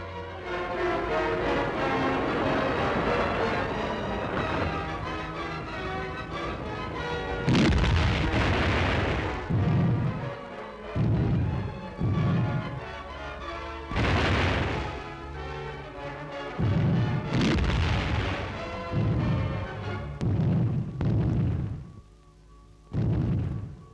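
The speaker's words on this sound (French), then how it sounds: "Le commando gicle sur le sable, parmi les explosions de grenades." Grenades explode during a commando landing on a beach: a string of heavy booms and blasts, some overlapping, over a constant rumbling background, loud and irregularly spaced.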